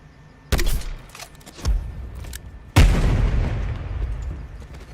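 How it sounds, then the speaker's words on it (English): Spawn tube fired in Black Ops Cold War on the Checkmate map, heard as a sharp launch thump followed by a louder booming blast with a long rumbling tail, close and loud with no talk. "as you're walking forward, you're just going to shoot without jumping, like so"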